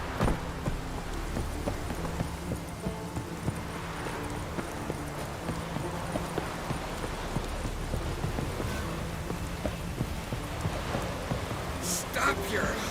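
The horse Roach running in The Witcher 3, a steady rhythmic clip-clop of hooves under a wash of rain, moderately loud and continuous, with occasional voices.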